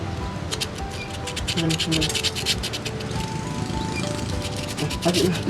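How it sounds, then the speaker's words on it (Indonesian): Rapid scratchy rubbing strokes, close and continuous, as sandpaper scrubs the electrode of a motorcycle spark plug, with a faint background hum. "kita bersihkan elektroda pada busi dengan menggunakan amplas"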